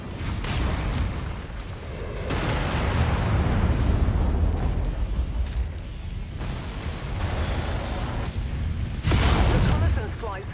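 Missiles fire and explode in the mech combat game MechWarrior 5: Mercenaries. A dense run of booming blasts and launch bursts keeps up throughout, with a sharp loud burst near the end and intermittent talk underneath.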